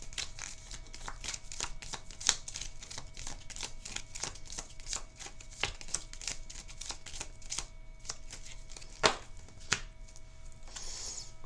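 Game cards being shuffled during a tabletop board game prototype, a steady run of quick papery riffles and soft flicks at close range, with no talking.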